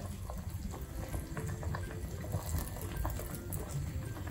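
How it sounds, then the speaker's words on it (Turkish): Thick peach jam bubbling and popping steadily in a pot on high heat, with a constant simmering hiss and scattered small pops, close and fairly loud. "fokurdamalar bayağı yüksek gördüğünüz gibi"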